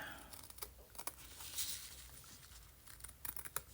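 Faint snipping of scissors cutting textile for a junk journal, soft irregular cuts with light rustling, close and quiet.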